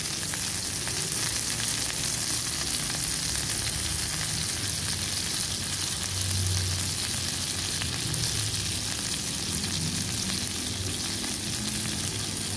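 Garlic frying in a pan for a mushroom sauce, giving a steady, loud, close sizzle that carries on unbroken with faint stirring and no voices.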